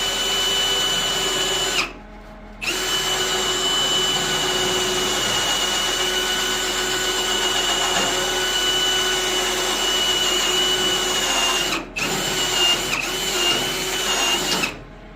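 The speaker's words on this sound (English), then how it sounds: "I drill a pilot hole And I use a step bit to drill it out" A power drill runs a pilot hole and then a step bit into a car fender, a steady loud whine held for long stretches with two short pauses where the motor stops and restarts.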